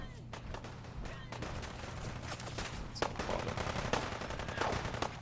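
Gunfire in the Fallout 4 video game comes as rapid bursts of shots and scattered explosions over a constant low hum, fairly faint and continuous.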